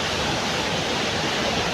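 Swollen river water rushing past, a dense, steady roar with no pauses, close and moderately loud, heard alone.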